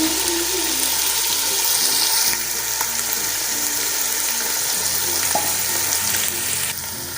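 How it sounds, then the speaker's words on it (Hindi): Mixed vegetables fry in a pan for a Pakistani curry, a loud, steady close sizzle that runs throughout with faint stirring scrapes and no talk. "इसकी अच्छी तरह भुनाई करेंगे।"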